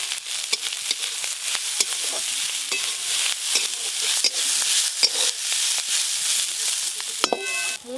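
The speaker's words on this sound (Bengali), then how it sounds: "এবার একটু হলুদ গুঁড়ো দিয়ে আর একটু ভালো করে নেড়ে নেব।" Radish greens stir-fried in a pan with turmeric powder, giving a steady sizzle broken by repeated sharp scrapes and clacks of a spatula against the pan, close and moderately loud with no talking.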